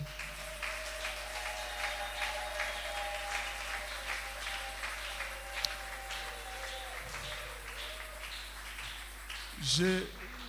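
A church congregation applauds, a continuous wash of clapping heard over voices and background sound, with a short louder burst near the end.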